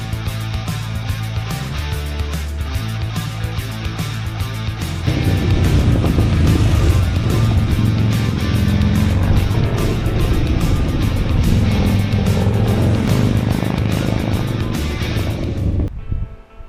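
A Harley-Davidson motorcycle engine rumbling steadily while riding through the Ardèche gorges, then opening up louder as it accelerates, with wind noise, until it suddenly cuts off.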